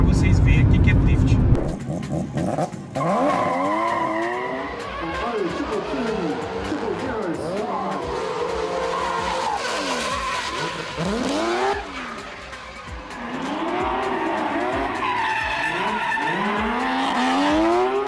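A car drifts with tires skidding and squealing in long wavering screeches over a revving engine, loud and close, with a voice speaking briefly at the start.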